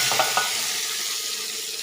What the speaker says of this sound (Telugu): ఇట్లా రావాలండి సౌండ్ తాలింపు ఎప్పుడైనా.